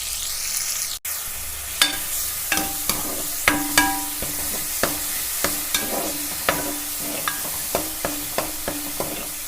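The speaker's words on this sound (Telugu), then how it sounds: "ఆ గోల్డెన్ కలర్ వచ్చేటట్టు ఫ్రై చేసుకుందాం పచ్చి వాసన పోవాలి బాగా" Ginger and shallot paste fries in oil with cumin in a pan, making a soft ongoing sizzle. A spoon scrapes and taps the pan over and over in a fairly regular rhythm, close by.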